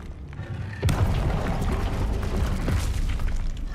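A Confringo fire spell explodes in Hogwarts Legacy with a sudden loud boom, followed by sustained roaring, crackling blast rumble.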